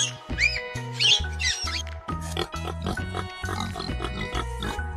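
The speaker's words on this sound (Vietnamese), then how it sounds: "Con lợn rừng." A wild boar makes a few brief high squeals and grunts near the start, mostly buried under a loud, steady upbeat music track.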